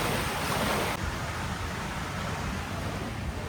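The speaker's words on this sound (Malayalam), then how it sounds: "ഒരു മാൻമേഡ് വാട്ടർഫോളാണ് ഈ കാണുന്നത്." A man-made waterfall pours down in a steady, dense rush of flowing water, loud and unbroken, slightly louder for the first second before settling to a constant roar.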